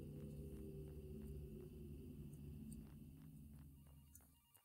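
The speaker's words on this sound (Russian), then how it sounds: "Да, идем на звук телефона." A telephone rings repeatedly at a steady rhythm in the Graveyard Shift horror game, sounding somewhat distant over a low, droning ambient rumble that fades slightly toward the end.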